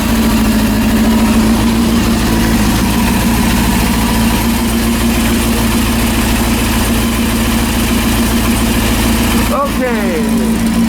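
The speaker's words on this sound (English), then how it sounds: "the bad engine noise." Close and loud, a rebuilt Honda CB400 motorcycle engine idles with a steady, unchanging drone and low throb, a person speaking over it and a brief rustling bump near the end.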